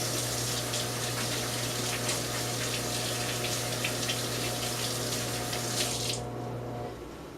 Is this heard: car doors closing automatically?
no